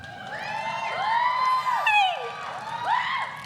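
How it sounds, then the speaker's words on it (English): An audience cheers and whoops in a few rising and falling voices, lively and fairly close, swelling and fading over a few seconds. "cheer if you have"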